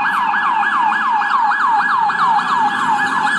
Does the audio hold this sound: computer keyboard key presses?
no